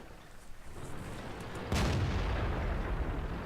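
A tank's main gun fires in World of Tanks during a match against an IS heavy tank, one sudden loud boom partway through, followed by a rumbling tail over steady battle ambience.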